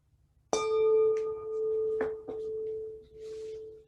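A single gong struck once in a quiet mindfulness meditation session rings out with a sharp attack and a long, steady, sustained tone that slowly swells and fades, with a few faint soft knocks in the background.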